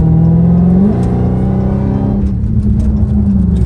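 A Dodge Challenger Hellcat Redeye accelerating hard, its engine roaring loud and close with rising pitch, a brief shift-like dip partway, then pulling again with a strained whine.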